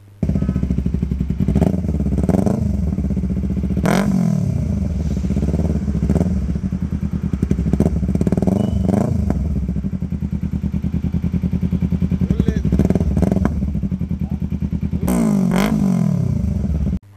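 A motorcycle engine runs steadily and loudly up close for the whole stretch, with repeated revs and thumping surges; the motorcycle was impounded by police in Panjim.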